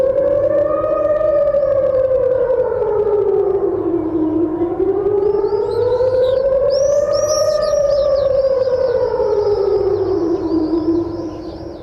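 A loud air raid siren wails steadily, its pitch rising and falling in long slow sweeps, with faint bird chirps in the background.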